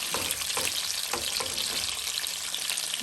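Meat fries and sizzles steadily in bacon oil for carne en su jugo, with occasional stirring scrapes over the constant crackle, close and moderately loud.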